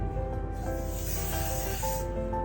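A continuous airy hiss of hair spray, close and steady, heard while styling a blowout with an old hair curler, with faint music tones in the background.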